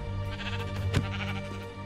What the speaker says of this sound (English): I have rescued the sheep!